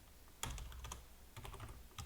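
Fast keystrokes on a computer keyboard entering an IP address, two short clusters of crisp clicks separated by a brief pause, close and quiet with no talk.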